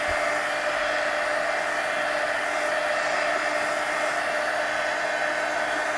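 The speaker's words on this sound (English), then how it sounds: "let me go ahead and hit these with the heat gun real quick and dry them" A heat gun blows steadily while drying art journal cut-outs, a continuous loud, even whirring hum that holds unchanged from start to finish with no talk over it.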